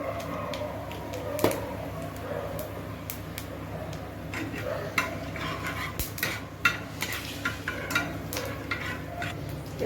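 Panch phoron five-spice frying in hot oil in a kadai, a steady close sizzle broken by frequent sharp clinks and scrapes of a spoon stirring against the pan, with no talking.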